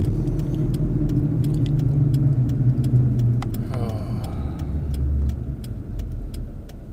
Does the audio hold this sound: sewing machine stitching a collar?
no